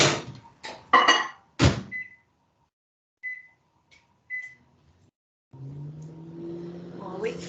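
A microwave oven being used to melt butter for brownies: a few door and handling thunks, three short keypad beeps, then a steady, close electric hum as the oven starts running.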